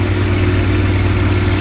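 A Husqvarna FS 524 self-propelled petrol floor saw idles at low revs, a steady, loud, even engine drone with a low hum that holds unchanged throughout, with no voices.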